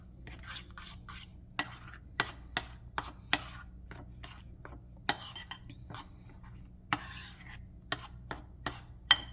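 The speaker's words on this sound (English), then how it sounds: "Now I'm gonna mix my seasoning in my sauce." Seasoning being mixed into a sauce in a bowl, with sharp, irregular clinks and taps of a utensil against the dish over a soft, quiet rubbing stir, with no voices.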